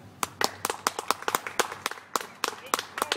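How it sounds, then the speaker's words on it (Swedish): Small audience at a ventriloquist's studio show clapping by hand, with a sparse, irregular run of distinct close claps rather than a full ovation. "en stor applåd för Gusten!"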